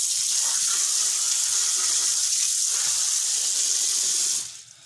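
Water pours steadily into a drinker for broiler chickens, a continuous bright gushing hiss that runs for several seconds before cutting off abruptly.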